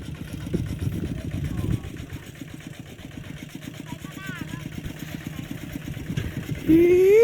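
A small single-cylinder walking tractor engine chugs along at a steady, rapid thump, running close by, with a brief rise in pitch near the end.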